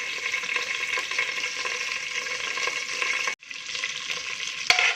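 Curry leaves and drumstick leaves fry in a hot pan with a steady, bright sizzle, broken by a brief dip near the end before the crackling resumes, close and loud.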